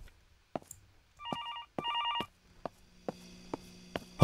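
Telephone rings in the horror game Infliction: two short bursts of a trilling electronic bell, followed by a few sharp clicks and knocks over a low hum.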